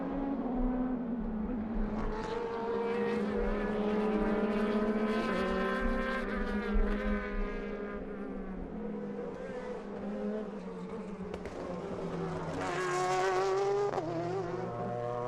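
GTE-class race cars, a Porsche and an Endless Ferrari, roar past on the Inje circuit in South Korea, engines rising and falling through gear changes as they pass one after another at close to mid range, loud and continuous.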